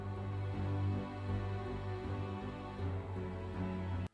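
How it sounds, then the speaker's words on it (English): A slow, sad harp part plays with sustained low notes and layered tones beneath it, steady and full throughout before cutting off at the very end. "I have the harp again, but it's a bit slower."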